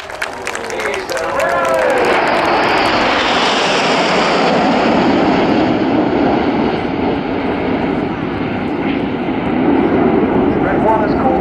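Red Arrows RAF aerobatic jets sweep past at an airshow, a loud rushing roar that swells quickly and holds steady, with a faint crowd and announcer talk underneath.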